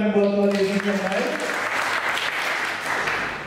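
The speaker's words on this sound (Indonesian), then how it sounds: "kita berikan tepuk tangan buat Tuhan Yesus yang baik." Church congregation applauds during a Sunday service, a dense, loud wash of clapping that swells in after a brief sustained musical chord and keeps going steadily to the end.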